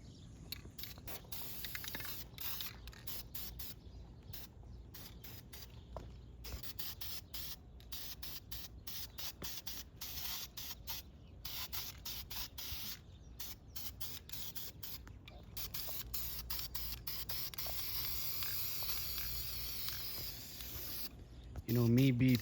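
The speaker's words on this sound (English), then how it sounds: "Now if you spray those caps and those rocker arms and springs" Primer paint is sprayed from an aerosol can onto engine valve caps, rocker arms and springs of a Pontiac engine in repeated short hissing bursts, close up, with brief gaps between them.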